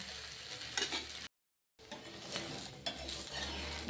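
Rava (semolina) breakfast paratha frying in a pan and being flipped: a steady close sizzle with light scraping and utensil clinks, broken by a brief silent gap partway through, with no speech.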